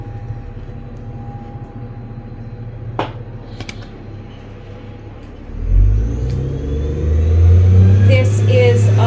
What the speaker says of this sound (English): the bus just went by there, if you've heard it